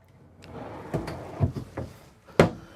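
Several pull-out pantry drawers in a 2023 Winnebago Navion 24J motorhome slide and thud shut one after another, a series of close wooden bumps and rolling runners.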